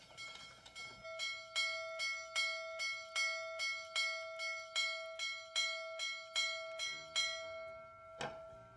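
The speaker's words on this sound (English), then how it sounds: "must be the bells of Notre Dame. Oh, it's 8 o'clock. It's probably the dinner bell." A dinner bell in a large house rings at eight o'clock in a long, steady series of clear, resonant strikes at an even rhythm, moderately distant and alone, fading out at the end.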